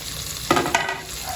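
French beans and chopped carrots hit a hot oiled pan with two quick, sharp sizzling bursts over a low, steady frying hiss.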